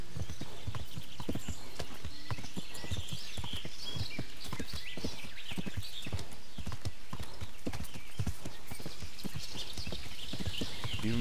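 Horse hooves clip-clop in a steady, brisk rhythm throughout in the video game Kingdom Come: Deliverance, with a faint whinny and some background ambience.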